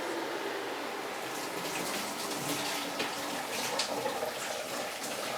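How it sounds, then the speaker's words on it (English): Rice is rinsed under a running tap, a continuous soft gush and splash of water at moderate-low level for about five seconds, with no voices. "Right, we will rinse the rice."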